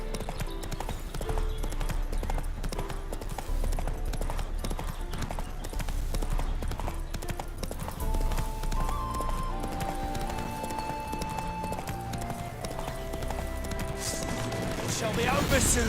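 Roach the horse gallops in The Witcher game, hooves clip-clopping in a fast steady rhythm at moderate distance, with occasional snorting and whinnying and voices talking over parts of it.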